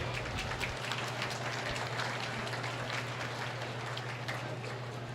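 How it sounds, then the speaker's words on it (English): Applause from the crowd at a county fair swine show after a class of gilts, a continuous broad patter of clapping that holds steady and fairly near, with no talk over it. "Let's give a round of applause for this class of gilts here."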